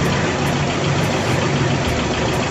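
A Toyota Corolla 2E engine fitted with a Mikuni 3K carburetor idles at around 800 RPM, a steady, even close-up engine hum with no talking.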